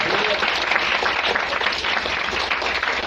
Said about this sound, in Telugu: గట్టిగా చప్పట్లు కొట్టి ప్రభువుని మహిమపరుద్దాం.